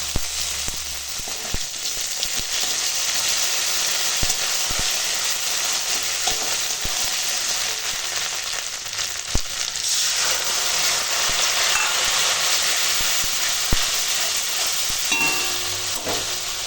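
A tempering of bay leaf, dried red chili and fennel seeds frying in hot oil produces a dense, loud, continuous sizzle and hiss, with scattered clicks of stirring, close up and without voices.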